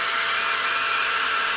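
A low-profile CPU cooler fan under 40 mm tall spins at 6000 rpm, giving a loud, steady, vacuum-like whoosh that holds constant throughout without any voices.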